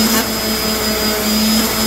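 An early-1900s metal angle finder being refurbished is sanded with 120-grit abrasive, giving a steady, close whirring hiss with a low hum that holds an even level throughout, with no talking.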